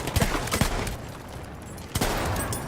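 Shotgun blasts in Battlefield 1, a couple of sharp booming shots early and another near the end, separated by a quieter stretch of ambient game noise.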